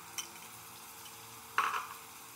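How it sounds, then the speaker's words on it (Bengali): A spoon stirs garlic and whisked sour yogurt in a hot pan, giving one short close scrape and a soft sizzle burst midway through an otherwise quiet stretch. "দিয়ে আমি একটু ভালো করে কষিয়ে নেব। এই যে টক দই দিয়ে রসুনটা ভালো করে আমি ভেজে নিয়েছি।"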